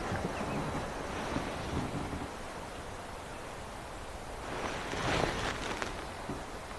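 Strong wind buffets an outdoor microphone on a live morning safari drive tracking a leopard in the African bush, a steady broadband roar with a louder gust swelling near the end.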